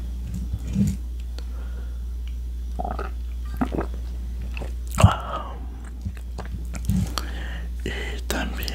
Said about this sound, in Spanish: vamos a comer unos pepinillos, unas banderillas